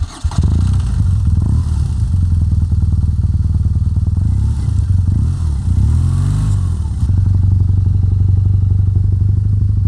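A motorcycle ridden steadily on a road in Poland, its engine droning loud and close with shifting pitch, wind buffeting and some clattering bumps throughout.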